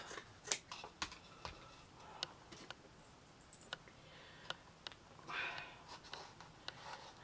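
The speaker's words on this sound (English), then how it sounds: "let's just cut a piece off." Scissors snipping through a piece of burlap for a Christmas bell craft, a quiet, close run of irregular crisp clicks and cuts with light rustling of the fabric, no talk.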